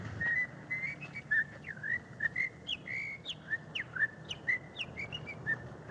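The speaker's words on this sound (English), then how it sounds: "Nice day of the week to be whistling a jig on the streets." A person whistles a lively jig on a street, the quick, bright notes rising and falling in a steady skipping rhythm with soft street background beneath.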